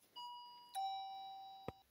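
A home doorbell sounds a two-note ding-dong chime, fairly faint and at a distance, with the tones lingering before a short knock-like click at the end.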